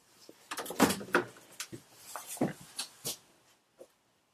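The doors of a four-door fridge in a 2020 Montana High Country 334 BH fifth-wheel trailer open in a cluster of close clicks, knocks and light rattles lasting a few seconds.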